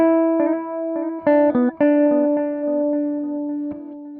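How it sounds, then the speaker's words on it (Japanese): Guitar notes run through a tape echo effect on a Zoom G1 X FOUR multi-effects processor, a handful of plucked notes and chords each trailed by softly repeating, slightly warm echoes that blur together. "で、テープエコー。"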